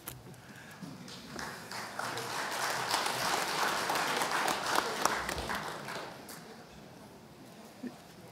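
Meeting audience applauding and cheering after a vote passes by a large majority, a broad wash of clapping swelling through the middle and fading toward the end, with scattered voices mixed in.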